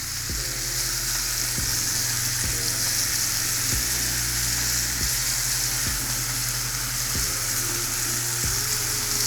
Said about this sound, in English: Go ahead and let that butter melt over them potatoes